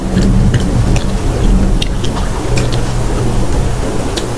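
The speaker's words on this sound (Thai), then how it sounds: "ฝนตก" Steady rain falls continuously, with a dense wash of drops and scattered sharper patters throughout, with no voices.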